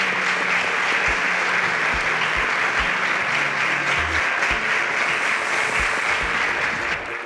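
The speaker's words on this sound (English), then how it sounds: "Please a round of applause for them as they exit the stage." Steady applause from a large crowd at a televised talent show fills the space, loud and continuous, with a faint thumping beat underneath.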